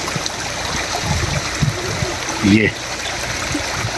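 A mountain stream beside a waterfall rushes in a steady, broad wash of flowing water, with someone speaking briefly over it.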